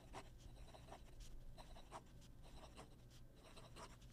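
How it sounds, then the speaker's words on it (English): A metal pen writes fast on paper, giving quiet, close scratching strokes in quick irregular bursts against a low background hum. "Fast writing."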